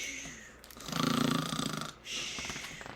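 A voice imitates a bear snoring during a storybook reading, giving one long, loud drawn-out snore in the middle, framed by quieter breathy sounds before and after.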